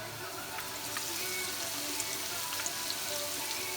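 Potato pancakes sizzle and crackle steadily in hot oil in a Polish home kitchen, a continuous close frying hiss with small pops, no voices.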